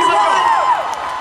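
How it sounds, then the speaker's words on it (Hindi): Crowd at a college event in Jaunpur cheers and whoops to welcome actor Suniel Shetty, a dense roar of voices with shouts rising over it, loud and continuous. "जोरदार ताली से स्वागत करिए बॉलीवुड के सुपरस्टार"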